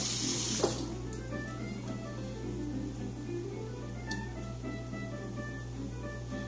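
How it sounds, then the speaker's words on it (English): A kitchen tap runs steadily while a tomato is washed under it, giving a continuous close hiss of flowing water with a faint hum beneath and a couple of small splashes. "Go ahead and wash the tomato."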